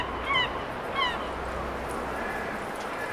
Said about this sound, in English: the seagulls are pretty loud.